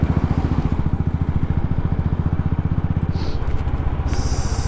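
Motorcycle engines in heavy weekday-morning city traffic, a loud near bike thudding steadily with other traffic around it, and a brief horn near the end.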